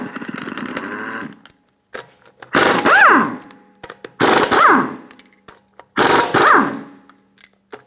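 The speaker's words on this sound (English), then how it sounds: "Using a 19mm socket, remove the lug nuts." An impact wrench with a 19 mm socket zips lug nuts off a Honda Accord wheel in three loud, close bursts of about a second each, separated by short pauses.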